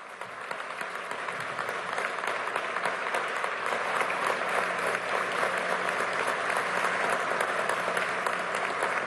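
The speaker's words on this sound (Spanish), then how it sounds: "Aplausos para ustedes." An assembled audience at a military promotion ceremony applauds promoted personnel, dense clapping swelling in the first seconds and then holding steady and strong, heard from within the room.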